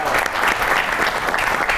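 Studio audience applauding on a Pakistani comedy talk show, a dense, steady wash of clapping that stays loud and even for the whole stretch, with no talk over it.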